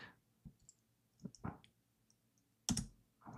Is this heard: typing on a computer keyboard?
yes